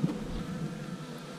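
Honeybees hum steadily around an open hive, a close, soft, continuous buzz with no voices over it.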